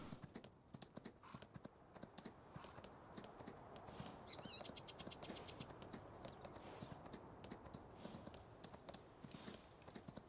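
A horse named Shiver trots under a rider in Farming Simulator 19 on the Ravenport map, its hooves clip-clopping in a steady, close rhythm that runs continuously over a constant outdoor background, with no talking.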